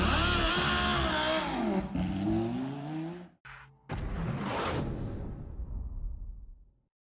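A Lamborghini Huracan Super Trofeo Evo 2 race car screams through the gears in a racing video game at Silverstone, loud rising and falling engine whine with quick shift drops, a brief cut, then a whooshing pass before fading away.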